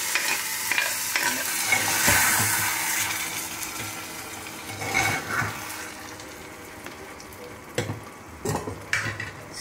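A sizzling tempering is poured and stirred into Andhra-style mango dal in a pot. A loud hiss swells and then fades, followed by intermittent scraping and clanks of the spoon against the pot, with no talking.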